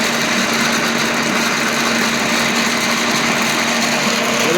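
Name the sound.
early 1900s camelback drill press running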